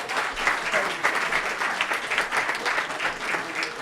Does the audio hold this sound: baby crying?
no